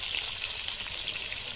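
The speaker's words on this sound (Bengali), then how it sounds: "মাছ ভাজা হচ্ছে" Fish fries in hot oil with a steady, bright crackling sizzle close by, continuous and fairly loud, with no voices.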